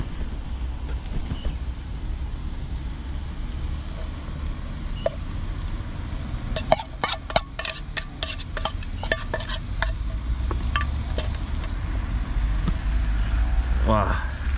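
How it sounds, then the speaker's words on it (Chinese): Cabbage and rice being stir-fried with a little soy sauce in a wok, a low sizzle under a run of sharp metallic scrapes and clanks of the spatula against the pan, with brief talk and outdoor background noise. "白菜里面下一点点酱油，先炒一炒，再把米饭倒入锅中"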